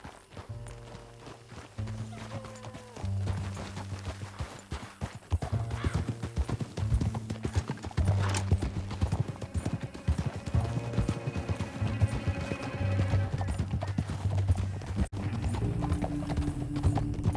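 Horse hooves gallop in Red Dead Redemption 2 in a quick, steady clip-clop that carries on throughout, close and prominent over a background of music.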